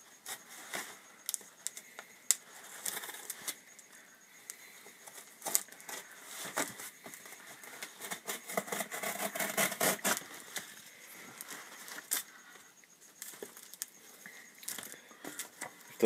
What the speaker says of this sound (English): Using a pair of scissors to open this.